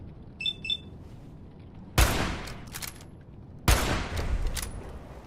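Fallout 4 video game gunfire: two loud, sharp bursts about two seconds apart, each trailing into a rattling decay, with faint electronic beeps before the first, no speech.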